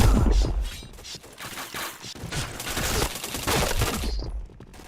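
Dense gunfire from the shooter game Point Blank: rapid overlapping bursts and single shots fill the whole stretch, loud and continuous, with mechanical clatter between volleys.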